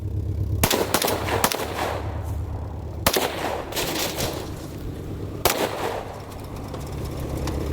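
Three loud, sharp rifle shots from a CMG Descent in 7.62x39 crack out close by, spaced a couple of seconds apart, each leaving a brief ringing echo.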